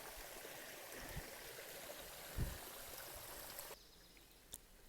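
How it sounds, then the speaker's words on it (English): Runoff water flows down the Appalachian Trail between Ash Gap and Carvers Gap as a faint, continuous rushing hiss that drops in level near the end, with a few soft knocks. "This is like an actual stream coming down here."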